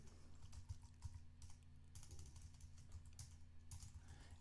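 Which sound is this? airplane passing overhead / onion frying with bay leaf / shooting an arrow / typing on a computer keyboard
typing on a computer keyboard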